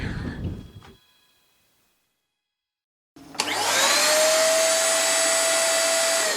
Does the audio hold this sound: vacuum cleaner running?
yes